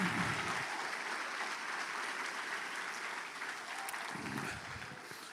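A church congregation applauds loudly, a steady dense wash of clapping that fills the room from start to finish with only a slight fade near the end.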